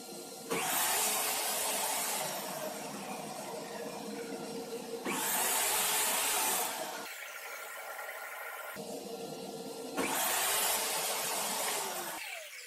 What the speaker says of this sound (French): ça a arrêté à la fois l'aspirateur et la scie